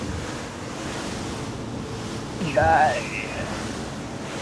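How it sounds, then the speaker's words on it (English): A Tesoro T50 motorboat runs at about 3,000 RPM and 14 knots into sea waves, with steady surf, hull wash and wind rush throughout and a brief louder splash midway. A person speaks briefly over it. "just about to immediately start going into these waves"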